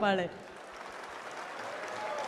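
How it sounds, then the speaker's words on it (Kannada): An audience breaks into steady applause after a brief voice, the clapping holding at moderate loudness to the end. "ಶಶಿ ಸಾರ್ಗೋಸ್ಕರ ಒಂದು ಜೋರ್ ಚಪ್ಪಾಳೆ"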